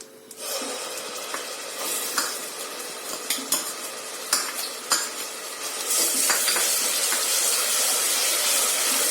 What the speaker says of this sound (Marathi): आपण आपलं तेल तापलं, आपण त्यात मसाला टाकूया